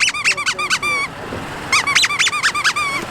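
A dog's squeaky toy squeaked in rapid clusters of sharp, high, close squeaks, a quick burst, a short pause, then another run of squeaks.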